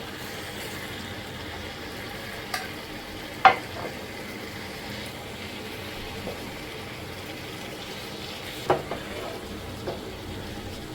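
A kilo of prawns fries in pepper masala while being stirred in a pan. A faint, steady sizzle runs throughout, broken by a few brief clanks and scrapes.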